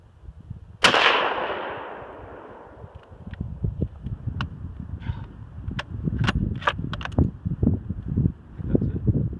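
A Mosin Nagant 91/30 five-shot bolt-action rifle fires a single loud 7.62x54 round outdoors, a sharp crack with a long decaying tail, followed by scattered clicks and rustling handling noises.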